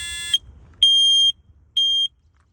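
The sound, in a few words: expired smoke detector alarm sounding with battery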